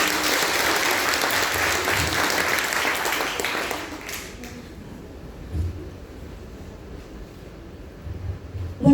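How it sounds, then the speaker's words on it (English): Church congregation clapping during a Sunday worship service, dense applause for about four seconds that fades to scattered claps and room noise. "Give the Lord your best clap offering."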